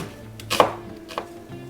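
A knife slices an onion into thin half-rings on a cutting board in a home kitchen. Two or three crisp cuts stand out clearly and close against quiet background music.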